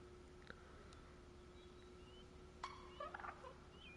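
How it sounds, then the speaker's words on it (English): A wild turkey gobbles in a hunting video game, a distant rattling call breaking out in a quick burst over a quiet outdoor hush with faint chirps. "I want to know where those turkeys are calling from."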